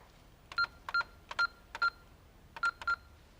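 Telephone keypad tones sound as a number is dialed: seven crisp, evenly spaced beeps in two groups, close and clear against a quiet background.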